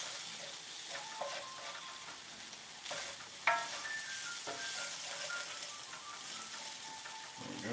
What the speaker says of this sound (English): we'll throw that warmed up broth in there